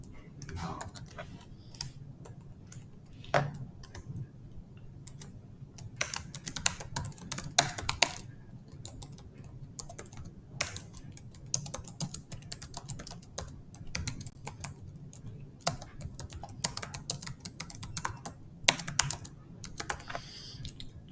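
Code being typed on a computer keyboard, a steady run of light, close key clicks in irregular bursts with short pauses, fairly quiet, with no talking over it.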